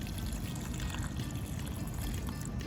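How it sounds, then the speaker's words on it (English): Water poured steadily into Traxtone shoe-casting mix, a soft continuous trickle and splash held close and quiet, with no talking. "pour more water in."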